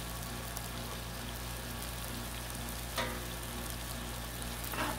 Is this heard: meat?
yes